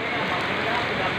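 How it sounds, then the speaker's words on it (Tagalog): Heavy rain pours down steadily in Jaro, a dense continuous hiss of downpour with no break across the moment, close and fairly loud. "malakas na ang iyong ulan"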